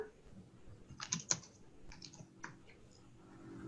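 Someone types on a computer keyboard, producing a few faint, sparse keystroke clicks in a quiet room.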